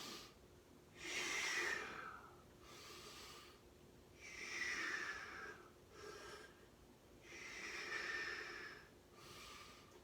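Heavy rhythmic breathing during bodyweight exercise reps, three long loud exhales through the nose and mouth spaced a few seconds apart with quieter inhales between, close and alone.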